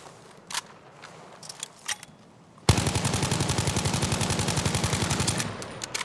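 A few faint scattered shots, then a sudden loud, sustained full-auto burst of rapid, evenly spaced gunfire lasting about three seconds, from a weapon recoil test in the video game Battlefield.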